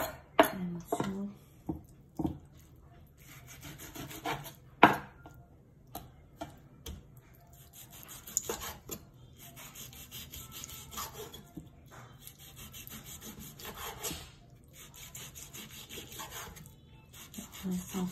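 A knife taps and scrapes on a wooden cutting board in irregular strokes as pork is sliced, fairly quiet and close, with soft rubbing sounds between cuts.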